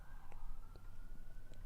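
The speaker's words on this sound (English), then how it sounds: "Sorry if you can hear those sirens." Emergency sirens wail outdoors, faint and distant beneath a quiet room tone, with a few brief higher chirps rising over a steady low rumble.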